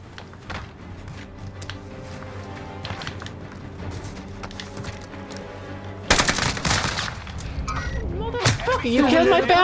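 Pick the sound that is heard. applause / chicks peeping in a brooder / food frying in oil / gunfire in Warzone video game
gunfire in Warzone video game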